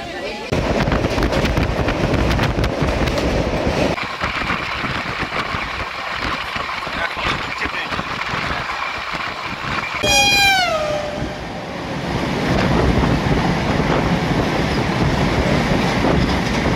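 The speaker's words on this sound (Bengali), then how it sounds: "ভালোই যাচ্ছে ট্রেন।" The Shalimar Puri Dhauli Express runs at speed with a loud steady rumble and rattle of carriages, a brief high squeal near the middle, and people talking over it.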